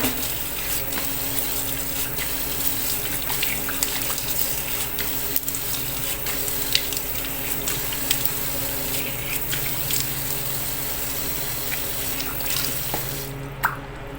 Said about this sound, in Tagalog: At pagkatapos ko nga po siyang sabunin, ay babanlawan ko na siya.